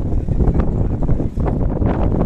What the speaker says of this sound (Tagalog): Malakas ang hangin, oh.